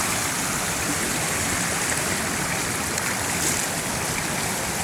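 Steady rushing of stream water at Curug Cikawah waterfall, a continuous broadband wash close by, with no voices over it.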